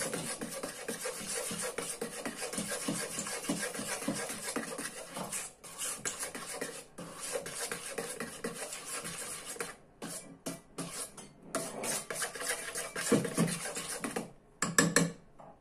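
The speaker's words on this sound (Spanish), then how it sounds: "Y lo vamos a remover bien, bien, bien." A spoon stirs a dessert mixture with sugar in a bowl, scraping continuously and rhythmically close up, with short pauses near the end.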